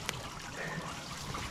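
Water trickling and burbling along a creek during a turkey hunt, a steady close wash of running water with no talk.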